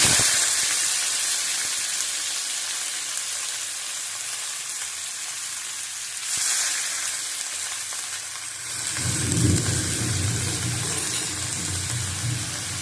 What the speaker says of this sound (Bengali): লবঙ্গ চারটে এলাচ চারটে দিয়ে দিলাম ভালো করে ভেজে নেব